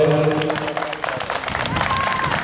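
Applause rises from an audience at a children's helpline cup event in Sighetu Marmației. Steady, dense clapping fills the hall, with scattered cheers and crowd noise mixed in.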